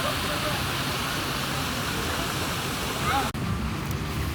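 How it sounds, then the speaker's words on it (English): Water from a small Mayan-ruin-styled waterfall spills steadily into the main pool of Disney's Coronado Springs resort, a continuous loud rushing wash with outdoor wind noise, breaking off briefly near the end. "Is the little Mayan ruined waterfall leading into the main pool area."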